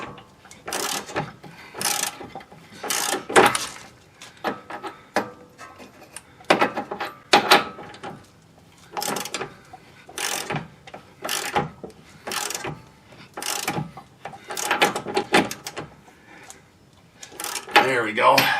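A ratchet tightens the bolt at the far end of a car's toe link during a suspension replacement, giving many short bursts of clicking strokes with brief pauses between them, close and fairly loud.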